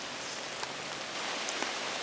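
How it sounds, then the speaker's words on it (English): Pouring rain on a forest trail in the Black Forest, a steady, dense hiss of drops hitting leaves and ground, with a few sharper nearby raindrop taps and no voices. "other than it's pouring rain"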